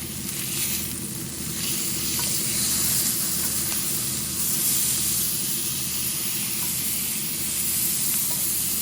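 A steak sears in a hot pan, giving a steady loud sizzle and hiss as it is flipped, with no talking.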